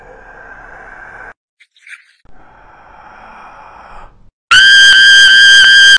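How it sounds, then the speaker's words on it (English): A cartoon character lets out a loud, sustained, shrill scream during the final seconds, after quieter breathy and tonal vocal sounds. "Italy, stop screaming."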